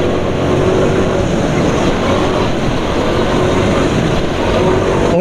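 Motorcycle engine running at high speed on Petronas Synthium 800 10W40 synthetic oil, a steady loud mechanical roar with wind rush and no breaks, heard throughout.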